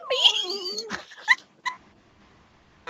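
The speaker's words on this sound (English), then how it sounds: "I've never heard a dog be that vocal before. Like, just like crying constantly." A dog whimpers and cries in a high, wavering whine for about a second, followed by a few short, sharper yelps and then quiet, close and fairly soft.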